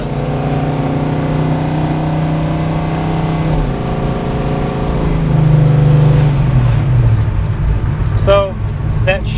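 A 1966 Plymouth Satellite with the 426 HEMI engine pulls hard under acceleration, a loud continuous engine roar climbing in pitch, then dropping through a firm gear change before building again, heard from inside the car.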